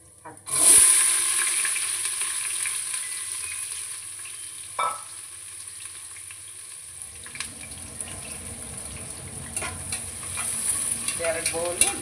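Sliced onions dropped into hot spiced oil as a tempering for chicken biryani hiss in a sudden loud burst. The sizzle then settles into a softer sputter with occasional stirring clinks and scrapes.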